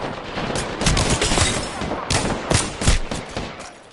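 Apex Legends gunfire: rapid automatic bursts and repeated shots, loud and close, in dense fusillade-like volleys lasting several seconds.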